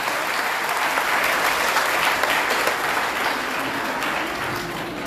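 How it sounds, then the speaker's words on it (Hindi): Loud, sustained applause from a crowd, dense and continuous, fading slightly toward the end. "जोरदार तालियां"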